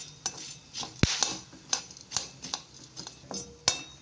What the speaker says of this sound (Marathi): त्यालाही तेलामध्ये छान भाजून घ्यायचं आहे